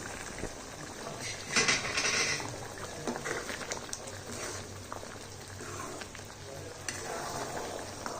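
Butter mushroom cooks in a pan with a quiet, continuous bubbling sizzle and occasional light pops, heard alone at low volume.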